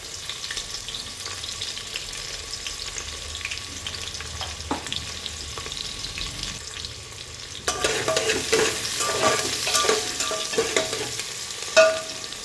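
A generous amount of onion frying in a pan for Khandeshi masala rice, with a steady sizzle that grows louder and busier with scraping stirs partway through, close up.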